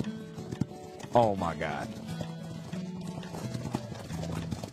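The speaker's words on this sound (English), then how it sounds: "Can I ride my horse?" Horse hooves clip-clopping in the Roblox game Blade Ball, a steady rhythmic beat running through the clip under an excited voice and game music, with a brief whinny-like sound early on.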